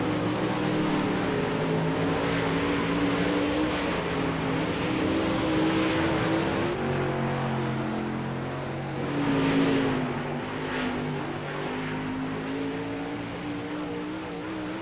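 Rick Carter's number 69 race car at the racetrack, engine droning steadily and loud with a brief swell near the middle, no voices.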